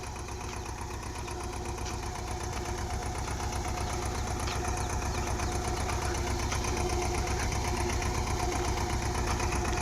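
A tractor engine runs a pesticide spraying machine in a crop field, a steady close droning rumble with a faint rhythmic knock that holds unchanged throughout.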